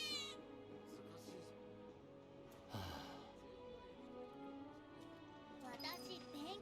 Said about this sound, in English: 猫の鳴き声しながら止まっちゃったし、近くにいるのかも